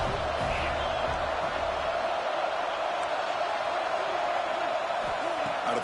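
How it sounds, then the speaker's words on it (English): A football stadium crowd roars during a tense third-down play, a broad, sustained wash of cheering noise that stays steady and fairly distant throughout. "3rd down, and the crowd really getting into it."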